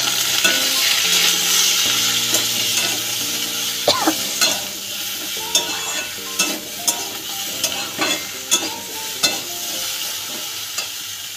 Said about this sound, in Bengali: এখন তেলের উপরে আমি ঢেঁড়সটা দিয়ে দেবো